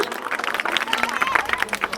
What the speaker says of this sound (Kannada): ಜೋರಾದ ಚಪ್ಪಾಳೆಯ ಮೂಲಕ ಒಮ್ಮೆ ಅವರನ್ನ ಮನಪೂರ್ವಕವಾಗಿ ಅಭಿನಂದಿಸೋಣ.